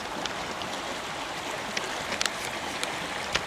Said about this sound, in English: When you see a river moving this fast